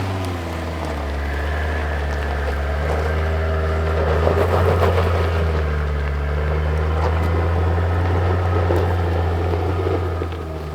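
A Jeep Wrangler with locked differentials strains over an obstacle, its engine holding a steady, loud drone with deep harmonics that swells slightly in the middle before easing back.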